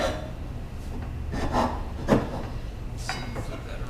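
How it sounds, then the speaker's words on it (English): A few scraping rasp strokes on the edges of a wooden cutting board, short and close, spaced irregularly over a quiet background. "So I'll just use this rasp, just because it's a little quicker than sanding."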